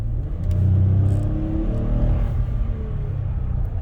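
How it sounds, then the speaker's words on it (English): A Toyota Sienna minivan engine coasts off the gas, its RPMs sinking slowly as a steady low rumble and hum, loud and close from inside the cabin, with no talking. "If you release the gas pedal, the engine RPMs don't drop very quickly. They're like slowly dropping."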